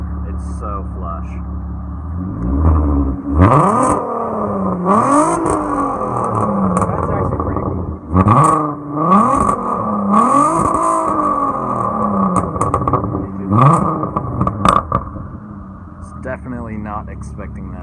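A lowered Volkswagen GTI revs repeatedly, each engine climb rising and falling in sharp bursts against a steady idle. The car is loud and close, and people talk in between the revs.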